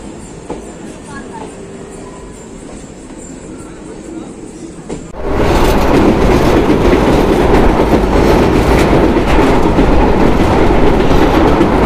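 Sahid Express 12347 on the Howrah–Rampurhat run, leaving Bolpur: a quiet carriage interior for about five seconds, then a loud, steady roar of the moving train with clattering wheels that continues to the end.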